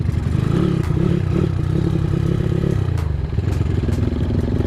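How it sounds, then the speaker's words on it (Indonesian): A Honda Tiger motorcycle engine drones loudly and steadily on a rough rice-field track, with clattering and scraping from the bumpy ground. "Ada motor ternyata."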